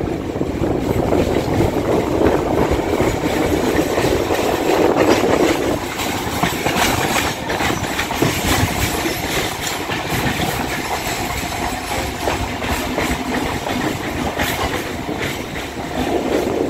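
An EMU local train on the South Eastern Railway runs steadily between Saheed Matangini and Howrah, a continuous close rumble with track clatter and engine drone filling the whole stretch without pause.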